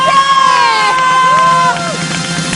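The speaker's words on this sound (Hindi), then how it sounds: "तालियां और सीटियां भाइयों यहाँ पे अब होनी चाहिए जोर" Studio audience at a Hindi morning TV show cheering and whooping loudly, with crowd noise and shouts filling the whole clip; sharp whistle-like tones cut through the din.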